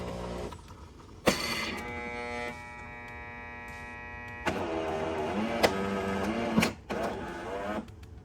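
A Jura Impressa XS90 Swiss espresso machine brewing coffee: a sharp clunk, then a steady droning pump hum with tonal whine, a louder grinding-pumping phase with clicks, and a final thump before it quiets.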